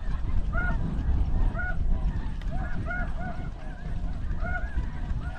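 Wild geese honk repeatedly overhead in extreme wind during a hunt, their calls overlapping at moderate distance above a steady, heavy roar of wind.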